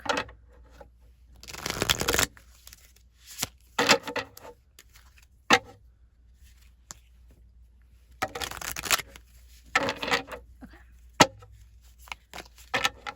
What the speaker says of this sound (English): Let me shuffle the deck.